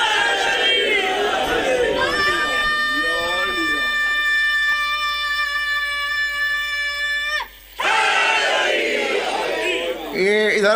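A sermon crowd chants a religious slogan back to a preacher. A long, loud, drawn-out shout rings over the gathering, breaks off abruptly, and the massed voices of the crowd then swell and roar in response.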